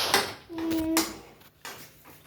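A utensil clinks and scrapes against a pan while Maggi noodles are stirred with water, a few sharp metallic knocks separated by short pauses, with a brief tonal ring from the pan.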